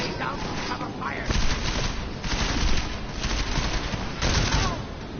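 Rapid bursts of covering gunfire crackle through a video game firefight, dense automatic fire swelling and fading in waves, loud and close with shouting voices mixed in.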